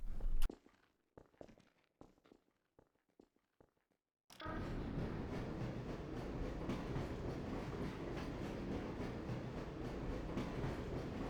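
A tram-like vehicle in the video game Duke Nukem 3D begins moving with a sudden start after a few scattered footsteps and clicks. A steady, loud rolling rumble then continues to the end.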